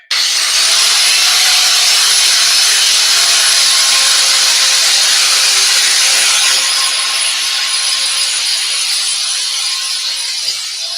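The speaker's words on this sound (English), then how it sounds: "And hitting it with this wire wheel." A wire wheel on a power tool grinds steadily against a steel chain clamped in a vise, a loud continuous whirring scrape with a high whine that holds for the whole stretch.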